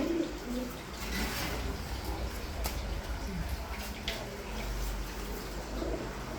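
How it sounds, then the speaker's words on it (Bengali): Soft cooing of nesting pigeons sitting on eggs amid a steady low rumble of background noise, with faint murmurs scattered through the clip. "ডিমে বসে আছে এই কবুতরগুলা"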